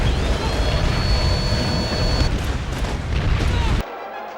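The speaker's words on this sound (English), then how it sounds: "we get hit by the legendary Nazi suction bomb" An explosion in the PS2 game Call of Duty 2: Big Red One sounds as a loud, continuous roaring blast and rumble that fills the scene, then cuts off abruptly near the end.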